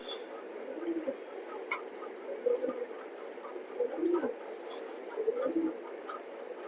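Racing pigeons in a loft give soft, repeated coos at a steady few-second rhythm, faint and low beneath a constant background hiss.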